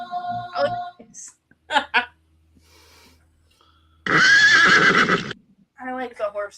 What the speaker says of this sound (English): I like the horse noises.